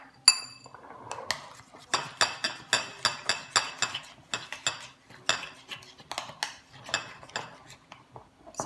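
Metal spoon clinking repeatedly against a bowl while stirring half a teaspoon of flavoring into ube sapin-sapin batter, a steady rhythm of bright, close taps with no talking.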